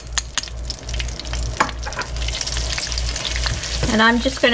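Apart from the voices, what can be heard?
cooking flour in a pan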